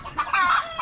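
Chickens clucking close by in short, bright bursts, a few overlapping calls forming a brief busy stretch of farmyard fowl noise with no talking.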